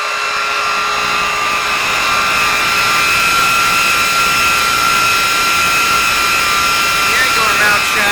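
An IKA UTC 80 homogenizing mixer runs at high speed, giving off a loud, steady high-pitched whine over a dense mechanical hum that stays constant from start to finish.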